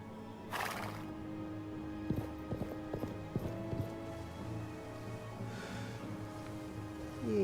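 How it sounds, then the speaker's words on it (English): Horse hooves clip-clop in the video game Live A Live, with short, uneven clusters of hoofbeats over a steady musical drone, plus a brief whinny near the start and soft breathy sounds later. "Clearly, I need to follow the horse."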